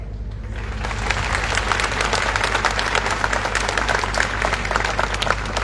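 Children clap at a memorial ceremony, a long burst of lively applause that swells after a brief start and stays steady, close and loud with a low hum beneath.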